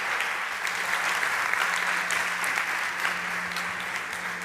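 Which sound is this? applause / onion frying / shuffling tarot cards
applause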